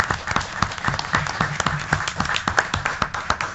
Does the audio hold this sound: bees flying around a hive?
no